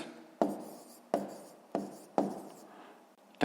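Someone writes by hand, jotting down the answer to a sixth-grade maths exercise: four or five short scratchy strokes spaced evenly apart, close and quiet, with no talk.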